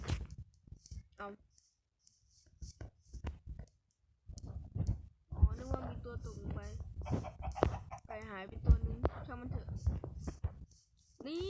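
Chickens cluck in short, scattered bursts amid clicks and Minecraft sound effects, with someone talking intermittently over them.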